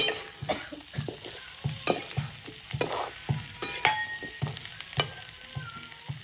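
Potatoes roasting in a pan, with repeated scraping stir strokes over a steady, close sizzle.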